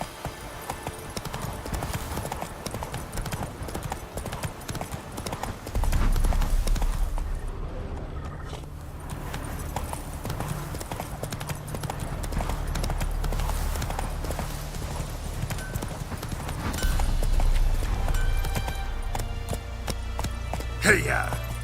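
A ridden horse's hooves clop in a brisk, steady run, dense and close, blending with loud rumbling movement and a voice calling out over the hoofbeats.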